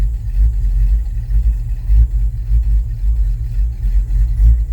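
An old car engine with no choke idles after a cold start, a steady low rumble with slight uneven surges throughout, close by and alone without talk.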